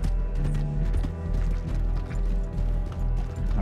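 Horse hooves in the Red Dead Online video game beat in a steady, busy clip-clop over dense mechanical clatter and background game noise, continuous and fairly loud throughout.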